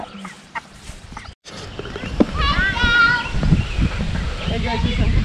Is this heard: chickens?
yes